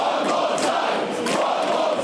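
A Camden crowd at a live wrestling show roars and cheers steadily, a dense wash of many voices filling the room without pause.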